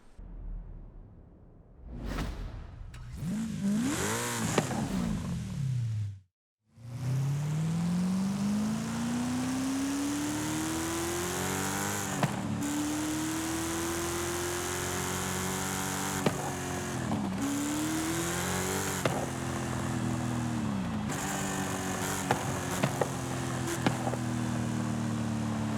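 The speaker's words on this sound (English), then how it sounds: "Let me take this thing out to the track for you now," A Chevrolet Camaro Z/28 muscle car with a 1200+ horsepower LS7 engine in Forza Horizon 5 idles, then roars up through repeated rising gear pulls with sharp shift breaks, loud and close throughout.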